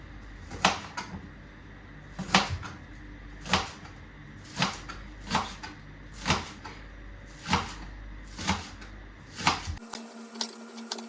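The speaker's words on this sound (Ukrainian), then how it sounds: "Зараз ще поріжемо зелень. Я буду спочатку цибулю." A knife strikes a cutting board, chopping green onion in steady, evenly spaced chops, about one per second, crisp and close, with no talking.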